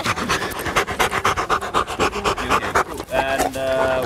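A dog being trained in Kenya pants rapidly and loudly close by, a quick steady rhythm of breaths for about three seconds, then a brief whine or whimper at the end.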